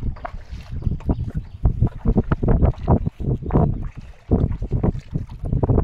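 Gusty wind buffets the microphone on a boat in the middle of a river during fishing, a loud, uneven rumble of rapid bursts that continues throughout.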